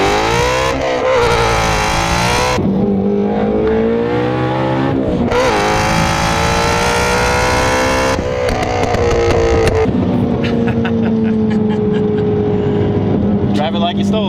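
A 2017 Shelby GT350R 1000R twin-turbo car pulls hard on the road, its engine climbing through loud revving runs with pitch sweeps between gear changes, heard close from inside the cabin with people talking over it.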